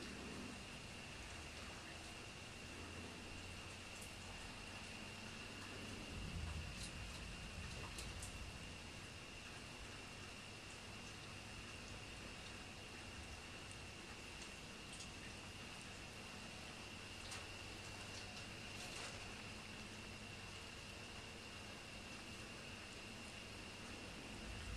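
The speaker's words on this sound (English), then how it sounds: "It's been storming really hard outside." Heavy storm rain falls steadily outdoors, a dense continuous patter with scattered louder drops and a faint low rumble, heard as an unbroken wash with no talking.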